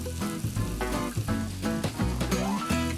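Pita toasting over low heat in a dry non-stick pan with no fat, giving a steady close sizzle and crackle alongside faint tonal kitchen sounds, with no talking.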